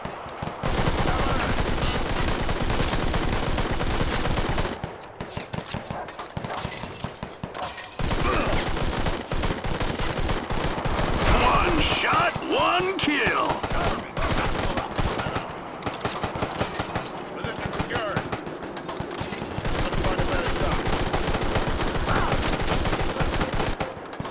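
Gunfire in the mobile shooting game Sniper Fury: dense, continuous volleys of shots with short breaks, loud and close, with a voice speaking briefly in the middle.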